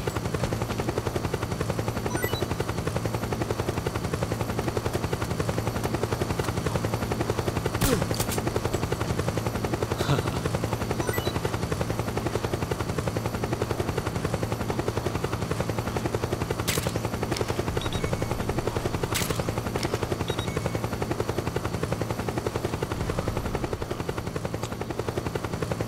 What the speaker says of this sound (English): Helicopter's over there.